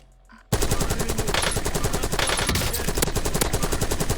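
Rapid automatic gunfire from Call of Duty Warzone erupts after a short quiet moment, a dense continuous burst of loud shots running steadily to the end with no talk.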